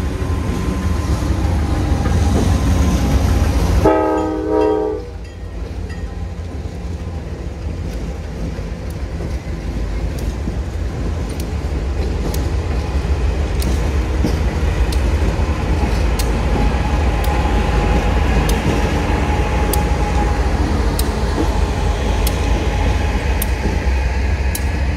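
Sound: Pan Am Railways freight train passing

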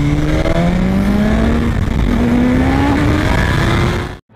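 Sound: Dafra Speed 150cc 2008 motorcycle engine running

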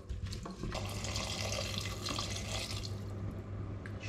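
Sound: adding water to cooking pot

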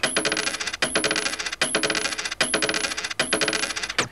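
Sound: tape loop of coin falling on table

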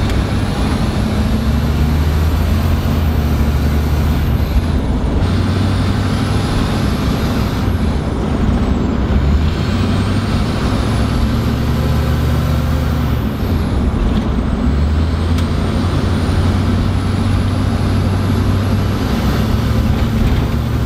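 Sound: straight-piped school bus with 6.0 engine

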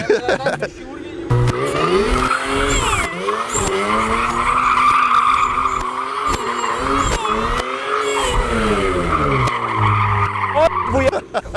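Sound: car tires spinning, burnout

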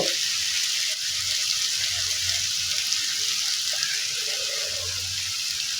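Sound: water added to spices frying in pan

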